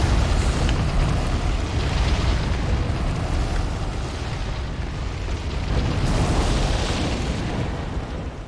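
A large explosion in the Bloodborne video game, a loud, sustained, rumbling blast that fills the whole stretch with heavy low roar and no talking.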